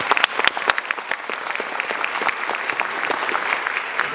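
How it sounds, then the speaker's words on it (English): Steady applause from an audience at a high school spring band concert, dense clapping lasting several seconds, fairly close, with a faint voice or two under it. "let's give Caitlin a big round of applause"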